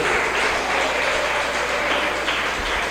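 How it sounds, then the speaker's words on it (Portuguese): A church congregation applauding together during a Portuguese-language Bible study service, a loud sustained wash of clapping hands from many people, steady and dense with no pauses. "Vamos aplaudir bem forte ao Senhor."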